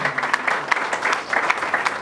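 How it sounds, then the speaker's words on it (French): Brief, loud burst of audience applause, a close and dense patter of many hands clapping together with no voices over it. "est-ce qu'on peut applaudir?"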